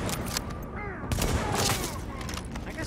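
Rapid bursts of video game gunfire in Times Square, New York crackle in quick succession with sharp booms, busy and loud, with some voice-like sounds mixed in.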